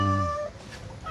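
A cat meows once, close and fairly loud, a single drawn-out call that fades into a quiet room with faint background noise.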